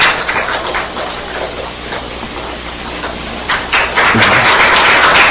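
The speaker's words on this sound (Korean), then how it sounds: "하나님께 영광의 박수 올리겠습니다" Congregation applause in a church after a baptism ceremony, a dense, steady wash of many hands clapping that swells louder near the end, with no speech over it.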